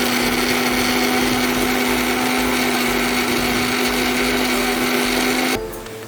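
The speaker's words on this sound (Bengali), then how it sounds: "তারপরে এখানে মা আবার পেঁয়াজ, আদা আর রসুন একসাথে পেস্ট করে নিচ্ছে।" An electric blender whirs loudly and steadily as it grinds onion, ginger and garlic into a paste, a high continuous whine that cuts off abruptly near the end.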